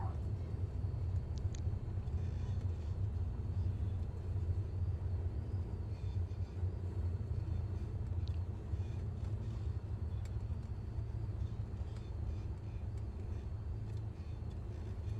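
A steady low rumble of an aircraft rolling out after landing in Microsoft Flight Simulator 2020 at Out Skerries airstrip, with the engines at idle. The roar is continuous and fairly loud and has no speech over it.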